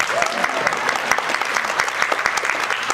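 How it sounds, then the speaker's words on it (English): Audience applause after spoken word and dance performances at a U.S. State Department event, a crowd of many hands clapping steadily at moderate distance with sharper individual claps standing out. "I'll give a round of applause for such amazing performances"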